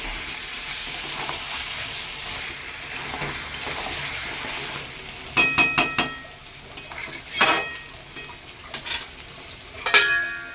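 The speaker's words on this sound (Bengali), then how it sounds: "এদিকে আমার মাংস কষাচ্ছি এখনো।" Mutton kosha being stir-fried in a pan alongside pulao, with a steady low sizzle broken by sharp metallic clinks and scrapes of a spatula against the pan in the second half.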